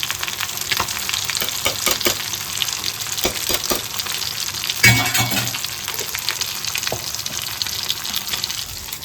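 Ghee is spooned into chicken tehari sizzling in a pot, giving a loud, continuous close-up frying hiss, with stirring scrapes and a brief louder burst of crackle midway.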